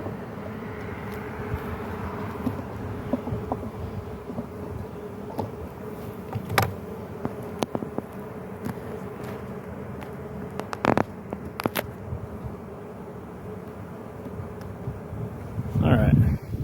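Honeybees drone steadily around an open garden hive in early November, a continuous low hum with a few sharp knocks and clicks from handling of the hive.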